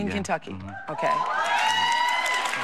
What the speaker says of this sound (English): Now, why are you applauding?